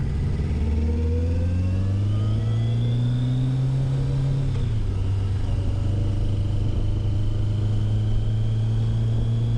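A Kawasaki Voyager XII touring motorcycle engine drones steadily while riding on the road, with a strong low hum that rises in pitch, dips with a gear change, then holds. Wind rushes throughout, and no one speaks.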